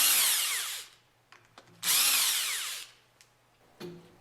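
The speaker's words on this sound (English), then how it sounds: "Use the impact wrench with a 5mm hex attached to loosen the 4 bolts" An impact wrench with a 5mm hex bit loosens the top-cover bolts on a General Pump, two loud, sustained whirring bursts close by with short clicks and handling noises between them.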